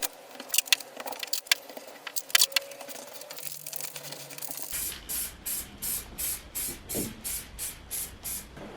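A spray can is used to paint car parts on a budget Honda Civic restoration. First come several sharp rattles and short bursts, then a regular series of about eleven short, loud hissing sprays in an even rhythm, close and without talk.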